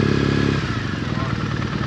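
Motorcycle engine idling and rumbling nearby in a parking area at the ABR adventure riding festival, a steady mid-pitched throb with some clatter as voices talk over it.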